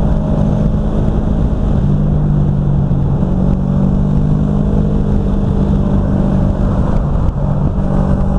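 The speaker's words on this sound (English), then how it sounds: "Brad, man, seriously, he got passed by the Ducati now" A Ducati MotoGP racing motorcycle engine roars loud and steady from start to finish at high revs, with no talking over it.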